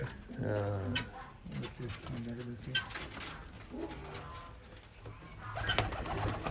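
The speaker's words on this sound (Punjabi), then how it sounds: "ਆ ਸਾਰੇ ਕਬੂਤਰ ਬੱਚੇ ਵੀ ਹੈਗੇ" Adult and young pigeons coo repeatedly nearby in low, rolling calls, with people talking intermittently in the background.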